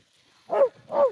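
Two short barks from sled dogs, sounding close and evenly spaced, each rising and falling over a quiet snowy background.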